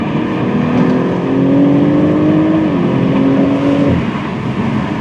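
BMW Z4 M40i with its B58 engine, driven with the top down, pulls hard through the gears: a steady, loud, rising engine drone with revs climbing, a brief dip at a shift, then climbing again.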